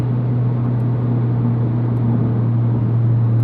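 A Mitsubishi Evo X on a stock turbo with an open dump valve pulls hard on the street, giving a loud, steady engine drone with a deep rumble that holds unbroken throughout.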